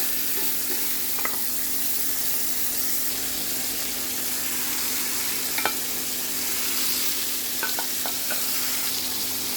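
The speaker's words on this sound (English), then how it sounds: "Frying time is 2 minutes on each side." Seasoned chicken fries in a pan with a constant bright sizzle, broken by a few faint clicks and scrapes as pieces are shifted.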